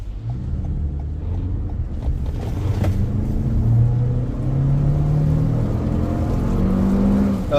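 A 2023 Toyota Highlander XSE accelerates from inside the cabin, its engine note a low rumbling hum that climbs and rises in pitch over several seconds, steady and moderately loud with no talking.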